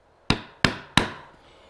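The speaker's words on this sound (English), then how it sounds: "Now I can put my chisel in that gauge line" A chisel is struck into wood at a marking-gauge line during drawer making, giving three sharp mallet-driven chops about a third of a second apart, close and loud with quick decays.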